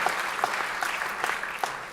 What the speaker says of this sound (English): let's clap for her son